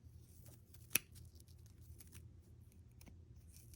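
A single sharp snip of scissors cutting yarn for a pom-pom stands out against a quiet, low background rumble, followed by a couple of faint clicks.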